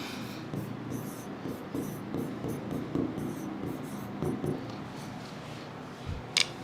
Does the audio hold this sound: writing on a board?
yes